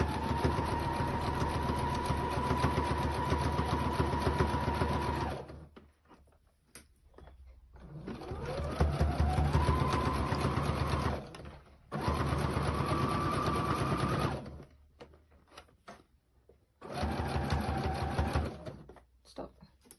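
A sewing machine stitches folded fabric bunting in several loud, close runs of rapid mechanical whirring, stopping and starting between bursts.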